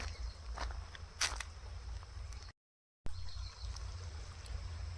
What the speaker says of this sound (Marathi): मस्त झुळझुळ पाणी वाहतंय